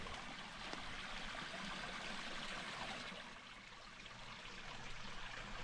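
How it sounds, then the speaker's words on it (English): A creek beside a lake cabin in the mountains flows with a faint, continuous rushing and trickling, steady and somewhat distant with no talk. "Here's the creek."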